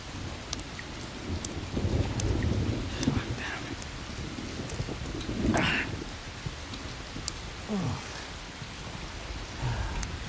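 Steady rain falls with rumbling thunder rolling in during a storm scene from the film Guzaarish, loud and close, with no talk over it.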